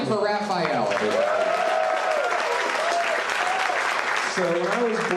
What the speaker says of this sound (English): Clap one more time for Rafael, everyone.